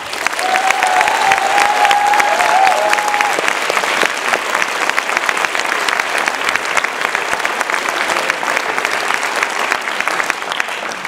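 Sustained applause from an audience at a student music concert, steady and full throughout, with a brief faint tone near the start and no speech on top.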